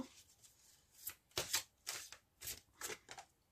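A deck of cards for a reading is cut and shuffled by hand, giving a series of crisp, close riffling bursts at a brisk uneven rhythm over otherwise quiet room tone, with no talking.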